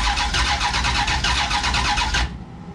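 A big block Dodge Duster engine cranks on its first start-up attempt, a loud rhythmic starter churn for about two seconds that cuts off abruptly without catching.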